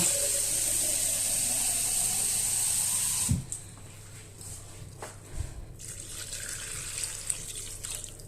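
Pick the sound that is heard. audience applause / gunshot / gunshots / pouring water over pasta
pouring water over pasta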